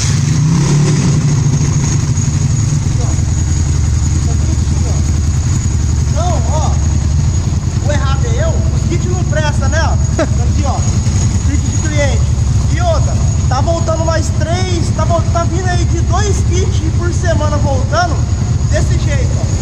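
A 240cc motorcycle engine starts up and runs loud and close, revving in repeated rising bursts in the second half, while someone talks over it.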